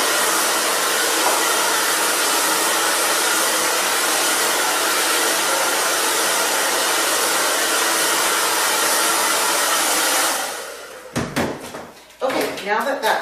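A hair dryer blows steadily and loud close by while sectioned hair is dried with a paddle brush, then cuts off near the end, followed by a few clattering handling knocks.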